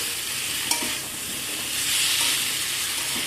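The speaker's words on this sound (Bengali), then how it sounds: "মশলা আর ডিম সব একসাথে ভালো করে কষিয়ে নিচ্ছি।" Fried fish eggs stir-fried together with masala in a pan, a dense, constant sizzle with hissing steam close up, one small clink early and the frying swelling slightly louder midway.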